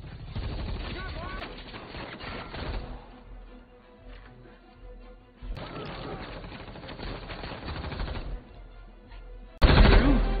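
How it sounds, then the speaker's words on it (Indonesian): Rapid bursts of gunfire crack out in repeated volleys during an action film shootout with mafia gunmen, mixed with music and dramatic film sound, ending in a loud blast. "Setelah tembak-tembakan yang panjang terjadi"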